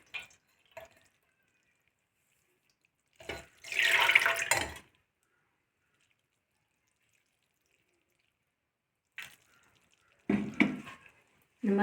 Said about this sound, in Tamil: இது மேலே லைட்டாக தண்ணி விட்டுக்கணும், கொஞ்சம் நனையிற மாதிரி